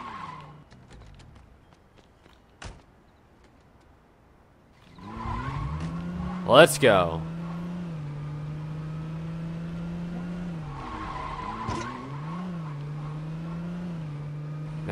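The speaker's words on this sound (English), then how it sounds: "I guess I'll just use a random car" A car in the video game Saints Row 2 starts up, revs and accelerates, with a short sharp tire skid in the middle and a steady engine drone after it; a voice speaks briefly at the start.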